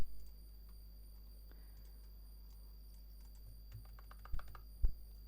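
Quiet, scattered keystrokes from commands being typed on a computer keyboard while configuring a Cisco switch, with a couple of louder key taps near the end over a steady low hum.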